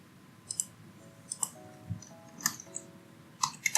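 Keys clicking on a computer keyboard while text is typed into GIMP, a few sparse, irregular taps and short clusters, close and fairly quiet against a faint background hum.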